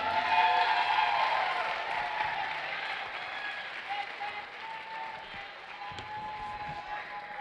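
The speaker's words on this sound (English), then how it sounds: "Can you please give a huge round of applause for my man, Zach Schwindt?" A comedy contest audience gives a sustained round of applause for the third-place winner, with dense clapping loudest at the start and gradually easing while staying steady, plus a few scattered louder claps.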